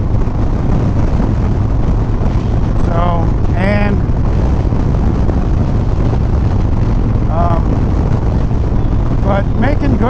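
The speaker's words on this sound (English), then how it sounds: "It is really windy right now." Strong wind with gusts around 40 mph roars as a loud, constant rumble buffeting the microphone, with a person talking over it throughout.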